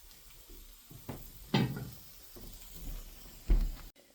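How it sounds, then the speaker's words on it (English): Pork roast sizzling in a pan on an old-fashioned woodstove, with soft frying hiss and a few louder crackling bursts, plus occasional clanks of pots or a door nearby. "Meat is sizzling away."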